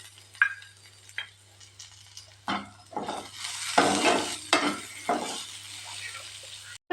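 Ridge gourd peel and coconut pieces sizzle in hot oil while a spoon stirs and scrapes the pan in bursts, close up, over a low steady hum.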